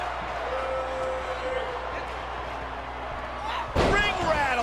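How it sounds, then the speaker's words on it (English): A wrestler slammed onto the wrestling ring late in the clip, a single heavy thud with the ring rattling, over steady crowd noise and a commentator talking. "Ring rattling. Got every ounce of that one."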